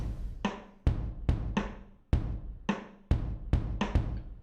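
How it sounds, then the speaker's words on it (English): A series of deep, booming orchestral-kit kick drum sample hits in an irregular pattern, each with a quick, punchy decay and no voices. "For the kick I have used orchestral kit kick"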